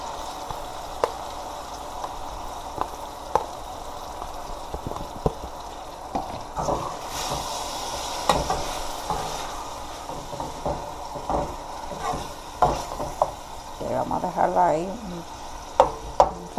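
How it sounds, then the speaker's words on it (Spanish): Salt cod fries in a pan with sautéed vegetables, a soft continuous sizzle under repeated scraping stirs and clacks of a utensil against the pan, growing busier toward the end. "para que se sofría todo junto ahí."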